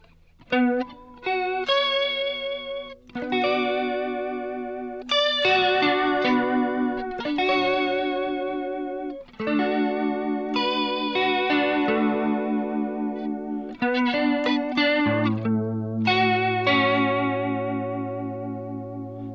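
Electric guitar played through a Zoom multi-effects pedal's vibrato, its notes wobbling in pitch as chords and melodic lines ring out steadily, close and loud.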